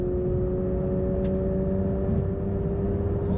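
A Porsche 911 GT3 RS 992 engine drones at a steady, even pitch from inside the car in light traffic, loud and constant throughout with no voices.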